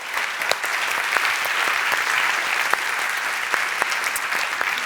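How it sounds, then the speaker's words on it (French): Audience applause at a French conference, a steady, dense wash of many hands clapping close by that holds evenly throughout without talk. "On peut l'applaudir"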